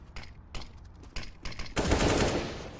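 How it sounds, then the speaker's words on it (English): Gunfire in CS:GO on the Overpass map, heard as several sharp separate shots followed by a denser, louder burst of fire, with no talking. "The bullets go off for Nex, and it takes down Mo."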